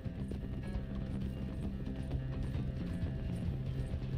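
Horse galloping in Red Dead Redemption 2, a steady run of hoofbeat clip-clops with game music and rumble underneath, continuous and close throughout.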